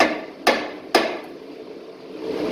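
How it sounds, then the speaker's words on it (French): Two sharp metallic hammer taps, about half a second apart, striking a rear brake disc up close, then quiet. "On va lui donner 2-3 petits coups de marteau."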